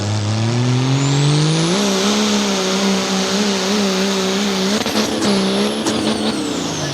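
A street diesel 4x4 truck launches at a drag race, its engine roaring loud and steady as it pulls hard, with rising pitch and a few sharp clatters and shifts near the end.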